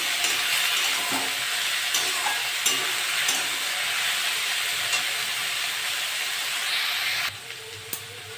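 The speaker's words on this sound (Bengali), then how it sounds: "নেড়ে চেড়ে একটু ভেজে নিয়েছি।" Bitter gourd and potato pieces fry in a pan with a steady, close, bright sizzle while being stirred. Occasional scraping clicks come through, and the hiss drops slightly toward the end.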